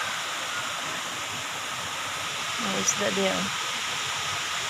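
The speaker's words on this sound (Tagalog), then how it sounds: "Agos ng tubig." A waterfall at a farm pours as a steady, dense rush of water, broad and constant throughout, while people speak briefly over it in the middle.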